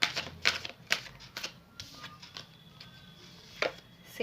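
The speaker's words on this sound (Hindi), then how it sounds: "सामने ही मैं शफल कर रही हूँ" Tarot reading cards are shuffled by hand, producing a series of sharp riffling snaps and soft slaps at an irregular rhythm, close and fairly quiet, with no talking.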